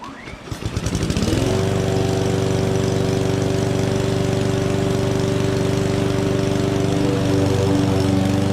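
A Bilt Hard 201cc 21-inch gas lawnmower engine sputters, catches and revs up, then settles into a loud, steady drone close by.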